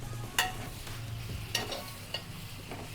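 Roughly chopped tomatoes being mixed into frying masala in a pan for chole, with a soft continuous sizzle and three distinct scraping knocks of a spoon against the pan.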